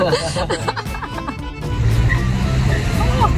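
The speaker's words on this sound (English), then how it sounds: "Salvatore often provides us with free rides up to the co-working monastery in his classic Fiat 500" A classic Fiat 500 climbs hilly Italian countryside roads, its small engine droning steadily and growing louder, with laughter and chatter from passengers early on.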